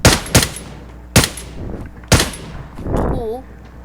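Sniper rifle shots in the video game Knives Out: three loud, sharp blasts with ringing tails, evenly spaced about a second apart, followed by a short swooshing effect.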